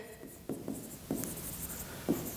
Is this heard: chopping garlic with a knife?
no